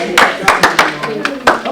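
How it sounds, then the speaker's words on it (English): A small workshop group claps, a handful of sharp, separate claps in an uneven rhythm rather than a full ovation, close and loud with some voices around. "round of applause"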